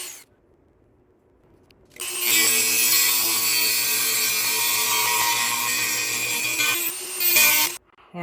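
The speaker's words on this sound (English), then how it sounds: "I've had to take a Dremel to remove a bolt from my Ferrari" A Dremel rotary tool grinds through a stubborn bolt on a Ferrari F430 during front bumper removal, a loud, steady high-pitched whine with harsh grinding that starts abruptly after a quiet moment, holds for about five seconds, then cuts off.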